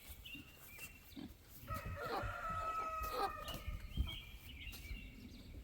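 A hen squawks and clucks loudly while being handled, with a drawn-out distressed call in the middle, amid scuffling and faint farmyard background.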